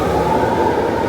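A Walt Disney World train rumbles steadily as it pulls away, a continuous low mechanical drone with no voices over it.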